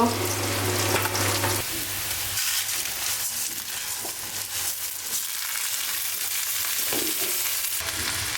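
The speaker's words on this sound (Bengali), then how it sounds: "পোলাও রান্না পেঁয়াজ দিছি দারচিনি তেজপাতা ছোটো এলাচ গোলমরিচ লবঙ্গ" Onion frying in oil with cinnamon, bay leaf, green cardamom, black pepper and cloves for pulao, a steady close sizzle that runs the whole time, with a low hum fading out early on.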